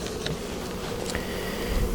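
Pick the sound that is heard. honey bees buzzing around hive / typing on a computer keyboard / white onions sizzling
honey bees buzzing around hive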